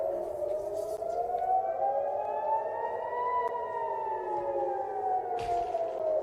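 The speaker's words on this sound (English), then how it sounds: "Let's take a listen to the air raid sirens there in Tel Aviv" Air raid sirens wail across Tel Aviv, a steady, distant rising-and-falling tone that swells slowly and hangs over faint background noise.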